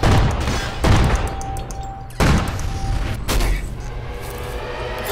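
Gunfire in the video game Call of Duty: Ghosts, loud heavy blasts at intervals over dense battle noise, a few sharp booming shots in a steady combat din.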